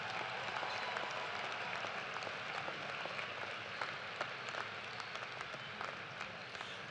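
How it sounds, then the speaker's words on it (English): Applause from a commencement crowd at a University of Toledo morning graduation ceremony, honoring the staff who organized it; steady, dense clapping that holds at an even, moderately distant level throughout. "Let's give a round of applause to everyone who helped create this celebration to remember"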